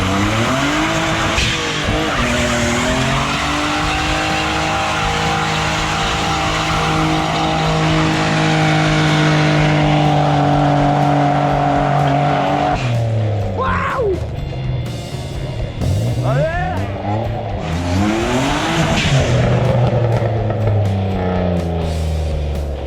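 A bi-turbo BMW 325i, rebuilt for drag racing with no welded differential, revs hard and squeals its tyres in loud, sustained wheelspin, the engine note climbing and dropping through several pulls with rising harmonic sweeps.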